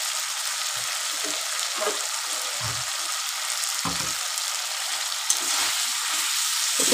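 Asafoetida hisses in hot oil for an elephant foot yam curry, a steady bright sizzle with a few soft low knocks from the pan underneath.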